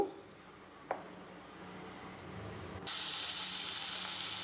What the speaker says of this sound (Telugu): హాఫ్ స్పూన్ తాలింపు గింజలు వేసుకుందాము